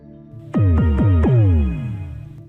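Four bright, descending synthetic tones in quick succession ring out through a TaoTronics TT-SK06 portable Bluetooth speaker, each sweeping downward and overlapping before fading together.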